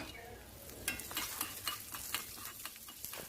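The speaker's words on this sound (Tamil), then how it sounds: "கடலைப்பருப்பை நல்லா பொன்னிறமாக வறுத்து எடுத்துக்கோங்க" Chana dal and garlic frying in a pan, with a light crackling sizzle and a few sharp stirring scrapes of a spatula, quiet and close.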